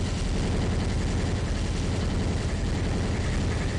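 Loud explosion effects from the OpenRCT2 theme-park game roar on without a break, a thick crackling barrage with no voices.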